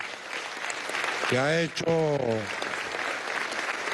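Applause fills the Venezuelan National Assembly chamber as a steady wash of clapping from a large crowd, running under a man's amplified speech throughout.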